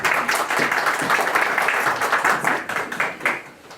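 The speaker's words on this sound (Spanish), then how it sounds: "el licenciado Gilberto Mendoza Martínez, para quien pido un fuerte aplauso." An audience at a university ceremony applauds steadily, a dense wash of clapping that holds for several seconds before starting to fade.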